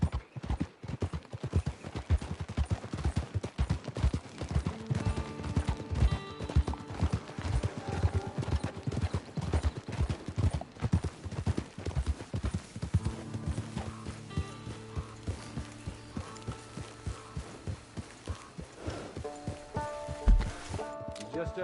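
Horse hooves clip-clopping at a steady walking pace in the video game Red Dead Redemption 2, with a brief snort or whinny, under a voice and soft background music.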